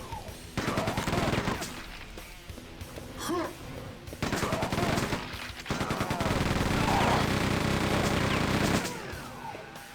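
Rapid bursts of machine gun or chain gun fire in Quake 2, played in the city level on Nightmare difficulty, come in several sustained volleys with short pauses between them, loud and dense, with chaotic combat sounds around the shots.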